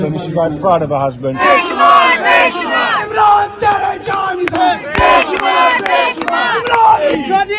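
Protest crowd outside, loud, chanting and shouting slogans for Fawad Chaudhry's release, with voices rising together in rhythmic bursts and overlapping cries throughout.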